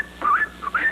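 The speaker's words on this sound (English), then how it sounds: "And the maid next door bought one at Toby's that whistles like this." A second tea kettle whistles in two quick rising, warbling chirps, a bright tuneful sound heard close up and alone.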